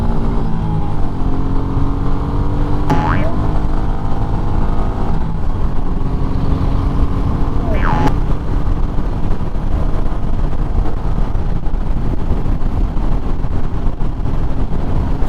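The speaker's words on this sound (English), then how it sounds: "one of the things you have to do with these bikes is run them through their rev range" Royal Enfield Meteor 350 motorcycle on a 70 mph highway, its single engine droning steadily with two rising revs, heard close over constant wind rush.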